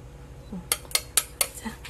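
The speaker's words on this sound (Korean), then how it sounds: "이제 한번 접시에 담아 보겠습니다." Metal utensils clink sharply four times in an even rhythm against a plate while stir-fried butterbur with anchovy broth is served, close and crisp, with a soft low scrape before and after.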